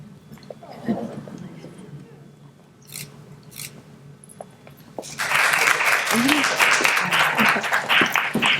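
An audience at the Albany State University spring 2021 education pinning ceremony breaks into loud, sustained applause about midway through. Before it, there is only quiet rustling and faint speech from a speaker.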